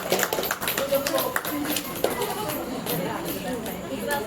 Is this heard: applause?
yes